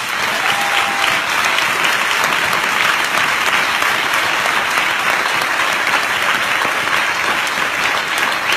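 Congregation at a French-language church service applauding to acclaim the Lord, a steady, dense wash of clapping from many hands that fills the whole stretch at even loudness, with no talk over it.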